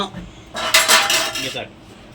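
Chicken mixed into prepared masala in a bowl for chilli chicken, a close, bright scraping and clinking of a utensil against the bowl lasting about a second between quiet moments.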